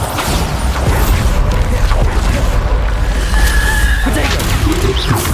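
A Bombarda explosion spell in Hogwarts Legacy detonates into a loud, sustained roar of rumbling blasts, creaks and crashing debris, with a voice partly audible beneath the din.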